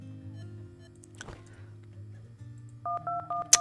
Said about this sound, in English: so let's phone him up and ask him what the deal is